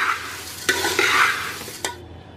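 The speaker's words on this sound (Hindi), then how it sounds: "अब ये चिवड़ा जो है इसमें मिक्स कर लेते हैं अच्छे से मिक्स कर लेंगे" Puffed rice (murmura) being stirred into a dry chivda namkeen mix, a close crisp rustling and scraping with a few sharper scoops, steady for about two seconds before cutting off.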